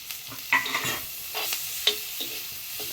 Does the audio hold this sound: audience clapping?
no